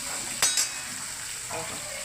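Eggplant and coriander fry in hot oil with a steady broadband sizzle, broken by two sharp scraping clinks of a utensil near the start and a softer stir later on.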